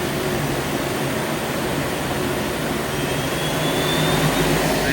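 A used 2014 Doosan Puma 2600Y CNC lathe spindle running at 2500 RPM makes a constant, dense mechanical whir with a faint high whine, steady and close, without speech.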